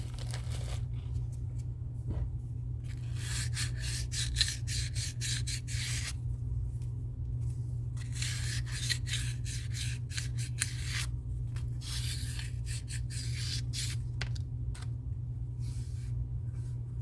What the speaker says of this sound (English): then you just take one of your pieces of sandpaper like this